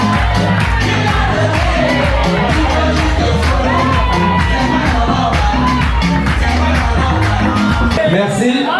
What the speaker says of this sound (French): Applaudissez pour notre maman.